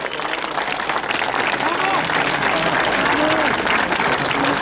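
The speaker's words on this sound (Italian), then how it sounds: "Un applauso anche per lui." Steady, dense applause from an audience at an Italian political rally in Rome, continuous and fairly loud throughout, with a voice speaking over it briefly.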